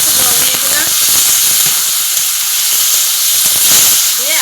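Water poured into a hot pan of raw mango chutney sets off a loud, continuous steaming hiss and sizzle with scattered crackles. It stays dense and close for several seconds.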